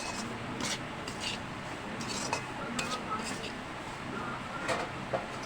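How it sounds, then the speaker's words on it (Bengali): Semolina (suji) being stirred and fried in a pan, with a steady rasping scrape of a spoon against the metal and scattered light clinks, faint and continuous under a low background hum. "সুজিগুলোকে এটার সঙ্গে ভালো করে একটু ভাজা ভাজা মতন করে নিতে হবে"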